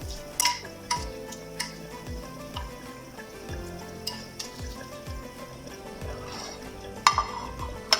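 Ingredients for a Tunisian Ramadan dish stirred together in a bowl, a rhythmic series of soft scraping, clicking strokes close by, with a couple of sharper clinks toward the end.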